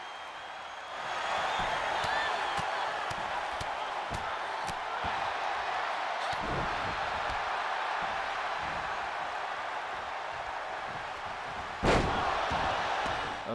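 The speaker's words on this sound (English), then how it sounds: "Alexa Bliss slamming Dakota Kai face first into the mat" A wrestler slammed face first onto the mat in the WWE 2K22 video game, with a heavy thud rising over steady arena crowd noise, then a second sharp impact near the end.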